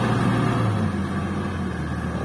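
An old Hino truck engine drones with a steady, heavy low rumble that holds roughly even at close range, alone without talk.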